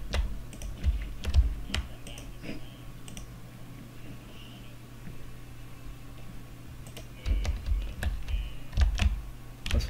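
Computer keyboard and mouse clicking in quick bursts of taps, loudest at the start and end with a quieter stretch in the middle, close by with a steady low fan hum underneath.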